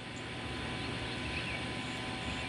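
A FIMI Manta VTOL drone flies and comes in to land, its motors and propellers giving a steady, fairly faint buzzing drone with a faint constant tone, heard alone without speech.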